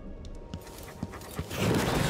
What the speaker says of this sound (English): Hi, doggy.